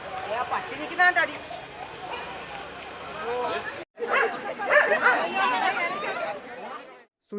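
A dog barks a few times amid crowd chatter at an outdoor tsunami mock rescue drill, the barks mid-distance and partly buried under voices.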